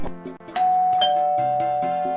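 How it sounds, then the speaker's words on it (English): A bright electronic doorbell chime sounds once and rings out, layered over light background music, close and clear. "that's the doorbell right in the middle of me studying for this massive final exam"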